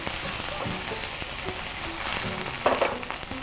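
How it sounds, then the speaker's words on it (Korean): Sliced chili peppers and green onion fry in chili oil in a pan over medium heat, giving a steady close sizzle with a few soft stirring clicks and scrapes, with no talk. "동글동글 썰어놨던 고추하고 파를 넣어서 향을 좀 내줄 거예요"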